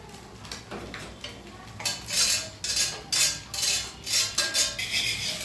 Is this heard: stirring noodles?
yes